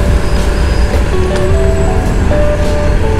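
A bus in busy street traffic in Taipa, Macau, with a loud continuous roadway rumble, engine hum and faint high squeals mixed in close by.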